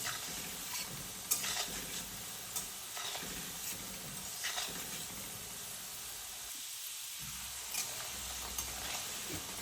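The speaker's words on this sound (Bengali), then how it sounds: "গোঠাগুলো আস্তে মিডিয়াম হিটে এভাবে আলতো হাতে ভেজে নিতে হবে।" Gotha pieces fry gently in oil over medium heat, giving a steady soft sizzle and hiss with occasional light stirring clicks, close and continuous throughout.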